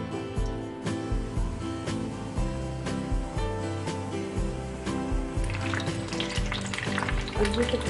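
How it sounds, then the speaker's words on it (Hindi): Samosas and kachoris deep frying in hot oil, a dense continuous bubbling sizzle heard close and steady throughout, with occasional soft knocks and no voices. "ऑयल गरम हो गया, अब हम इसे फ्राई करेंगे"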